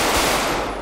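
A dense burst of rapid automatic gunfire in a GTA 5 roleplay match, loud and close, the rattling shots running together into one continuous volley that fades slightly at the end.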